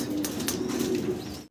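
Stencil fantail pigeons coo at close range in a steady, continuous run of low throaty calls, with faint rustling and a few higher chirps over the top.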